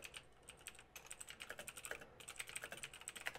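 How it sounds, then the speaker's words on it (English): Rapid clattering keystrokes on a loud computer keyboard, fast and irregular, with a short pause near the one-second mark before typing resumes. "I apologize for my loud keyboard. I know it's loud."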